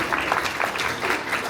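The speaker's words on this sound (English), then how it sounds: "Can we get a round of applause for the kids as well?" Audience applauding for children at a First Lego League kickoff event, a brief, moderately loud burst of mixed clapping in a room.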